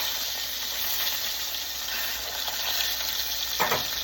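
A steak fries in a hot pan with a steady, close sizzle that carries throughout, with a few brief louder crackles and no talking.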